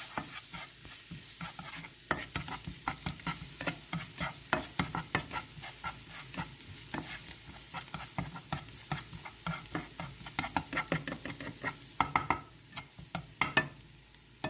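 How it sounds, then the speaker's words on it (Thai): Garlic stir-fried in butter and oil in a hot pan, a steady sizzle broken by many sharp spatula scrapes and taps that grow louder and sparser near the end, no voices. "แล้วก็ผัดกระเทียมให้หอมค่ะ"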